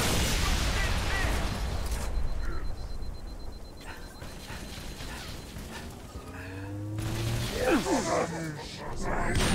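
Cannon fire in Halo: Reach amid a dense stream of game combat noise, with bursts of blasts and crashes repeating through the clip and a busier flurry of impacts near the end.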